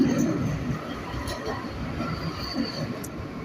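A steady low rumble of a tram rolling past at Nottingham Station, with faint wheel and track noise and no clear voices.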